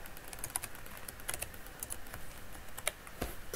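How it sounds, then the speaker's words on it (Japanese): Rapid typing on a computer keyboard, a run of light close clicks and clatters with uneven rhythm, alone without speech. "タイピング遅すぎだろ。"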